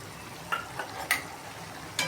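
A spoon stirs ground coriander, cinnamon, cloves and coconut into a prawn curry in a pan, with a soft sizzle underneath and a few distinct scraping strokes against the pan.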